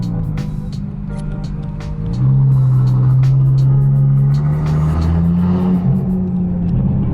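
Audi RS3 with a 3.5-inch EGO-X/Bull-X exhaust idling, then revving up into a loud, sustained throaty exhaust roar with fluctuating pitch and faint crackles.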